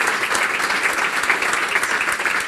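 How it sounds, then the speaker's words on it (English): An audience applauds at the end of a talk on the future of travel, steady, moderately loud clapping from a crowd filling the whole moment with no voices. "Can we get a round of applause"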